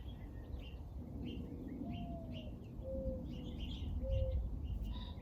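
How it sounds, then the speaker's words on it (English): Soft, low cooing calls of mourning doves repeat a few times at a moderate distance over a steady outdoor background hum, with faint higher bird chirps scattered around. "You hear them? The morning doves?"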